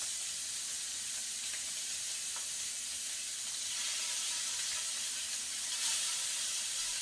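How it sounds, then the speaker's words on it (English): Shrimp frying in oil in a pan give a steady, loud, close sizzle with hissing spatter that runs unbroken, with no talk over it. "So I have to just keep going back, adding oil, adding shrimp."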